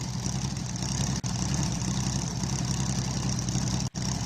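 An air-cooled Porsche 911 runs at a classic-car hill climb, a continuous, fairly loud engine drone that holds steady with two very brief drops.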